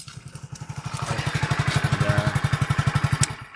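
A motorcycle engine putters close by in an even, rapid thumping rhythm that holds steady and slightly swells before easing off.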